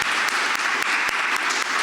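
Audience applause at an evening candidate forum: dense, continuous clapping from a crowd, steady and fairly loud for the whole stretch, with no clear speech over it.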